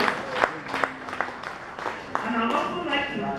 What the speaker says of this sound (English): Can we please give another round of